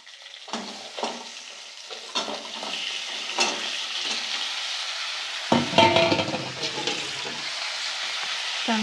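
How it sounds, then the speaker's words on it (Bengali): Crab pieces frying in hot oil in a wok, giving a steady close sizzle with a burst as they go in around the middle, plus scraping stirs and occasional clinks, with no talking. "কড়াইয়ের মধ্যে আমি ওই কাঁকড়াটাকে দিয়ে দেবো দিয়ে একইভাবে ওটাকেও ভেজে নেব আমি"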